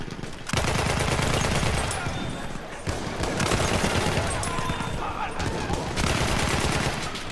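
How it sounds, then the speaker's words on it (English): Intense gunfire from a Battlefield 1 match, dense rapid automatic bursts and explosions stacked loudly and continuously, with short breaks between volleys. "I was shooting you like crazy"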